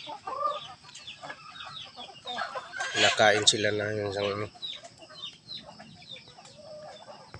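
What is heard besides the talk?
chickens clucking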